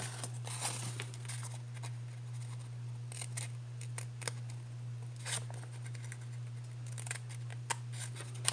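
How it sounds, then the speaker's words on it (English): Scissors cutting paper during a Halloween and fall papercraft project making a pocket and tag, with sharp snips in scattered bursts over a steady low hum, close and fairly quiet. "Find a pair of scissors in my mess."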